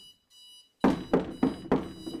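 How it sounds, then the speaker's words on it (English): An alarm clock rings in repeated loud bursts, about four evenly spaced rings, after a faint high steady tone at the start. "I know you hear that alarm."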